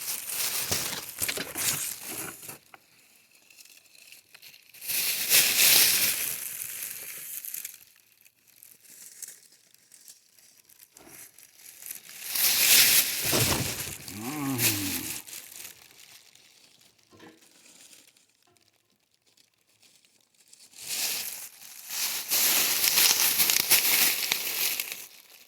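A plastic bag stuffed with leaves is crumpled and crinkled outdoors on a homestead. It comes in three or four separate bursts of crackling rustle, each a few seconds long, with quiet stretches between them and no voices.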